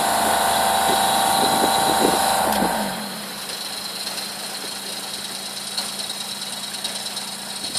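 A small boat's engine runs loudly with a chugging rumble, then drops to a quieter idle after about three seconds and keeps puttering steadily with no voices.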